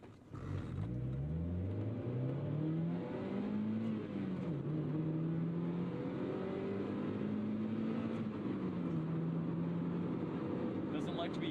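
Mazda Miata engine revving through gear pulls, the pitch rising steadily, dropping at each upshift and climbing again, loud and close over a rainy drive, with a voice talking faintly beneath.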